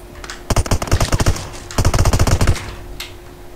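Rapid automatic gunfire in PUBG Mobile rattles out in two loud sustained bursts, each about a second long, followed by a fainter single shot.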